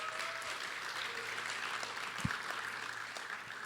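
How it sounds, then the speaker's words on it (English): An audience at a conference talk claps in a steady, moderately distant wash of applause that continues evenly without any voice over it. "So maybe let's cheer for that."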